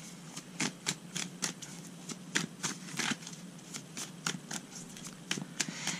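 Quiet close-up shuffling of a stack of tarot cards, a run of crisp rapid riffling bursts in an uneven rhythm with short pauses between them.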